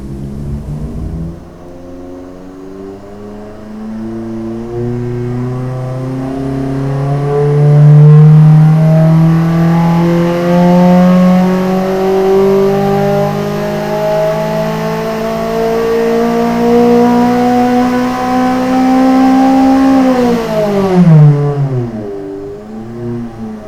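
A Koenigsegg Jesko engine running on E85 fuel revs up loud and close, rising and holding a strong tone for about twenty seconds, then dropping sharply.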